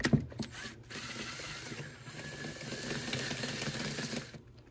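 Socket wrench loosening a nut, a quick run of ratcheting clicks and metallic mechanism noise at close range, fairly quiet.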